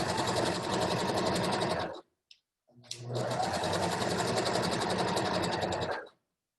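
Sewing machine stitching a fabric stocking: loud, close, steady mechanical whirring, a brief pause with a soft click, then another continuous run of stitching.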